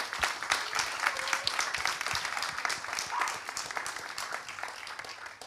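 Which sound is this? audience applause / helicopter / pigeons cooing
audience applause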